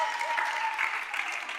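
Studio audience at a French game show breaks into steady, dense applause that fills the whole stretch at moderate level, with a faint voice audible underneath.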